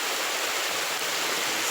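A steady, close rush of river water in Jamaica, a dense hiss of flowing current that fills the short moment with no voices.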